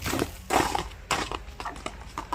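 A horse gallops close by in uneven bursts of hoofbeats, several heavy thuds in quick succession with short pauses between them, fairly loud and without talk.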